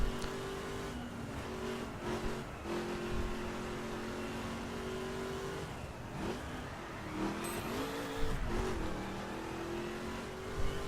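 A Ford Mustang muscle car racing around a circuit in the video game The Crew, its engine droning steadily with rising and falling revs as it shifts gears, loud and continuous throughout.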